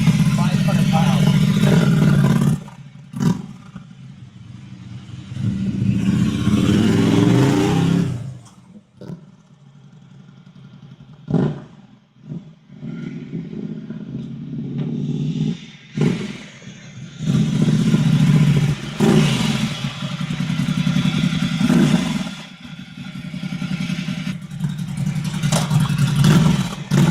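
Ducati Scrambler 800 Desert Sled motorcycle engine revving up and down in close, loud bursts with brief drops between them, a steady rumbling tone that swells and eases several times.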